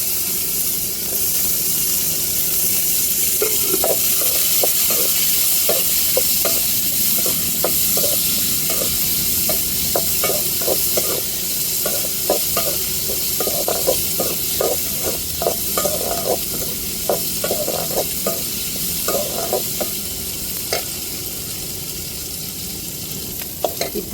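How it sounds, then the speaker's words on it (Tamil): Chopped onion and tomato sauté in a pan, with a steady sizzle under rapid, repeated scraping strokes of a spatula stirring throughout, close and fairly loud, with no talking. "இப்போ வந்து நம்ம கட் பண்ண வெங்காயத்தையும் தக்காளியவும் நல்லா வதக்கி விட்டுருவோங்க"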